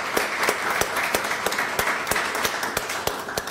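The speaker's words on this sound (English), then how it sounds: "Let's give all of these organizations a round of applause for having the foresight" An audience at an event on Vermont's economic future applauds in a continuous rattle of claps, with a few sharp, distinct hand claps standing out against the steady wash.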